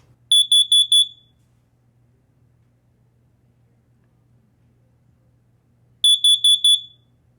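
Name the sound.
Universal CD9585 smoke alarm sounding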